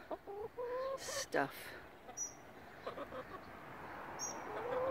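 Rescue hens cluck and chirp close by in a backyard run, several short calls scattered over a quiet outdoor background, with a brief spoken word.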